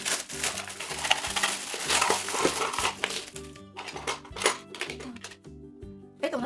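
Crinkly plastic rustles and crackles in bursts as it is handled close by, with scattered crisp crunches and brief pauses between movements.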